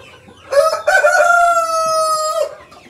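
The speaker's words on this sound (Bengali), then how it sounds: "এখানে মোরগটা কত বড়, টাইগার মোরগ" A large Tiger rooster lets out a single loud, drawn-out crow close up, clear and alone over quiet farmyard background.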